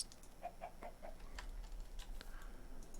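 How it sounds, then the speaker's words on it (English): A parrot calls in Minecraft SevTech Ages, a short series of quick, faint chirps early on, then a few scattered squawks, with no talk. "Where are you, parrot? Bird. Bird, I hear you."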